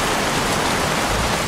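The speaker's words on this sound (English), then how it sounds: "Goddamn rain. Soaking wet." Steady heavy rain falling in the PS3 thriller Heavy Rain, a dense, even hiss of downpour that fills the whole moment without pause, loud and close, with no talk.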